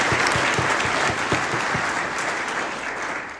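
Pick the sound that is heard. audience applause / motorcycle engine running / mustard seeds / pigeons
audience applause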